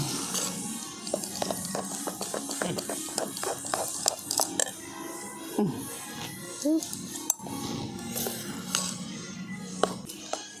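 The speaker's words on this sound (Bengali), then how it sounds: "এরপর আবার একবার ভালো করে মিশিয়ে দিচ্ছি" Potato dosa batter being mixed in a bowl, with soft scraping and stirring and frequent small clinks of a spoon against the bowl, close and moderately loud, with faint background murmur.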